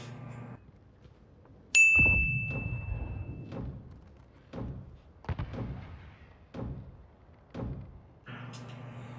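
In Warzone, a loadout drop box lands directly overhead with a sharp metallic clang and ringing tone, followed by several dull thuds and knocks spaced over the following seconds.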